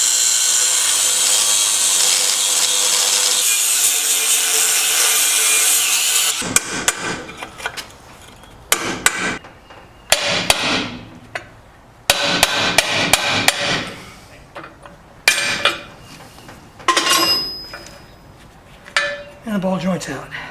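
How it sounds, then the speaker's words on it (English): Metal-cutting and hammering on the ball joint rivets of a 1988-1998 Chevy OBS truck front control arm: a steady loud grinding cut for several seconds, then repeated sharp hammer blows in bursts with pauses between. "So we gotta cut these 3 rivets out, pop them through, and remove that ball joint."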